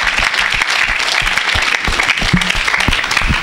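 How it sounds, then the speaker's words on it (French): A church congregation bursts into steady, dense applause, loud and close, with clapping sustained throughout and a few voices faintly mixed in. "Est-ce qu'on peut acclamer?"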